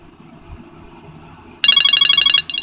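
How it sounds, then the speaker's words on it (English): An iPhone alarm clock ringtone starts abruptly after a quiet stretch, a loud, rapid, pulsing electronic tone repeating close by, briefly breaking off and then resuming. "the iPhone alarm clock, I'm going to show it to you"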